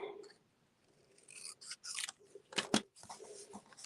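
Scissors snip through paper while a handmade greeting card is assembled; a few close, crisp cuts and crunching snips arrive in short bursts, loudest near the end, with faint rustling between them.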